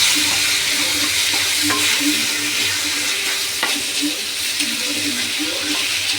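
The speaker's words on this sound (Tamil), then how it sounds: "இப்போது நம்ம அந்த இறால் எடுத்து இதை போடுறோம்" Prawns sizzling in a hot pan while being stirred, a steady close frying hiss with scattered scrapes and clinks of the spoon against the pan.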